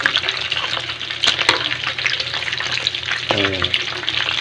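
Quail pieces fry in a pan for sweet and spicy adobo, producing a steady close sizzle with brief stirring clatter.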